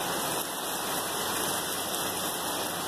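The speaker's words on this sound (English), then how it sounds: "trying to get a little stuff done and rain felt pretty good" Steady outdoor rain falls on a rainy day at a garden, a dense, continuous hiss with close drops pattering on a nearby camera, unbroken for the whole stretch with no voices.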